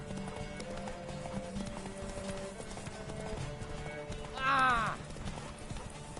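Hooves clip-clop steadily as a horse is ridden in The Witcher 3 video game, with game music underneath and a brief exclamation and a horse whinny near the end.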